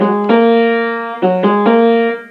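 Four piano notes played one after another on the black keys, each struck clearly and left ringing, the pitches stepping upward with no talking.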